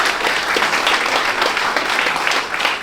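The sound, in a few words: audience applause for boxer Daniel Russell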